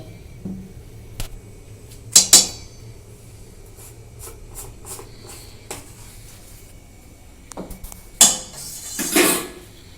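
A spoon scrapes and clinks against a bowl while cake batter with baking powder and baking soda is mixed for a stovetop cake, giving irregular knocks and a few louder taps over a steady low background hum.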